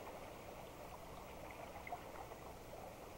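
A river pours through a shallow riffle where a side channel joins the main steelhead river, giving a steady, even rush of moving water with no breaks.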